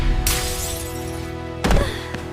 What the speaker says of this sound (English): The moment the kick connects, the glasses crack from the impact.